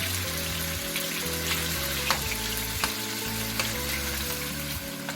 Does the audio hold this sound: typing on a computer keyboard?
no